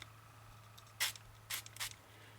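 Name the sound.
spraying colour from a spray bottle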